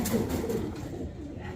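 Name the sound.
cooing of black Danish pigeons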